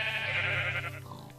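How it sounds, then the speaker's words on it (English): A sheep in Minecraft gives a single wavering bleat, loud and close, trailing off after about a second. "Sheep."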